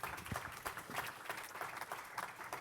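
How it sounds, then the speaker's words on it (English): Audience applause at an insurtech conference, a steady patter of many hands clapping at moderate volume for a couple of seconds with no talk over it. "So round of applause for Barney, please."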